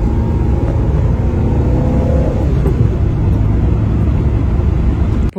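A 1991 Peugeot 205 Rallye driven through mountain roads, its small engine giving a loud, steady rumbling drone with road noise, cutting off abruptly at the end.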